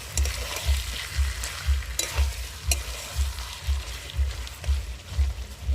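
Chicken with pre-fried potatoes being stirred and fried in a pan, a constant sizzle under rhythmic low scraping strokes of a spatula, repeated roughly twice a second, near and steady.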